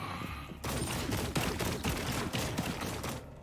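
Rapid video game gunfire, dense bursts of shots following a brief quieter lead-in, loud and continuous for a few seconds with no talk.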